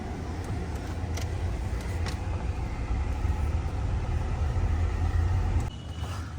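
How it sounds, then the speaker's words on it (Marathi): Steady low rumble of a car's engine and road noise from inside the cabin while it carries a group of passengers on the way to a hospital, continuous and fairly loud with a slight drop near the end. "चला आता मित्रांनो बघा गाडीमध्ये सगळेजण चाललो आम्ही सुटी पूजा दाजे शंभू"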